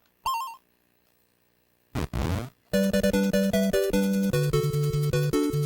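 A Nintendo Famicom modem (Family Computer Network System) trying to connect over a phone line: a short electronic tone, a burst of noisy handshake static, then a steady run of loud, clipped two-pitch beeping tones.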